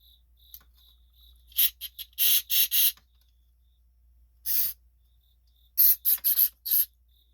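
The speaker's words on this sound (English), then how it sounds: "And you see how it sprays all over the place." An aerosol spray can blasts cleaner onto Cub Cadet riding lawn mower carburetor parts, in several short hissing bursts of varying length: a cluster of quick sprays, a single longer burst, then another rapid cluster, fairly loud and close with no talking.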